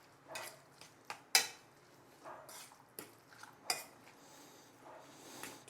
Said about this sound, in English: We can start mixing everything together.